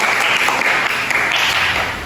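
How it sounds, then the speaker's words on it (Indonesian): Classroom applause for a student at a madrasah lesson, a dense, steady burst of many hands clapping close by, fairly loud and continuous throughout. "Ya, tepuk tangan dulu untuk suci Ramadan"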